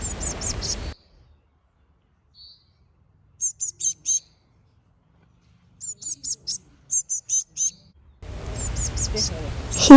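Baby house finches chirp while eating, giving short bursts of high, thin chirps in two clusters, with louder broadband noise at the start and end of the clip.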